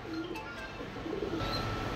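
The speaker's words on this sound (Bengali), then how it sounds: "মডার্নের একটা মাদি, মডার্ন আর মাদি কবুতর।" A female Modern breed pigeon coos softly in a low, continuous murmur, faint against steady background noise.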